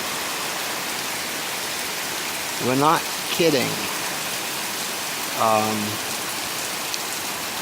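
Heavy rain falling steadily outside a house onto a flooding yard, a constant loud hiss that runs the whole time while someone speaks a few short phrases over it.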